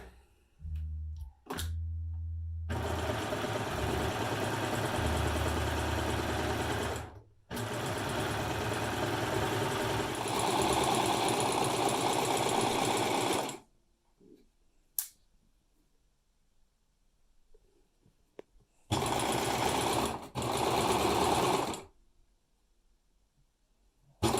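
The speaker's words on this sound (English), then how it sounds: "I'm going to use the serger here and put that first piece together." A serger sewing fabric whirs in long steady bursts, stopping and starting several times, with quiet pauses between runs and no voices.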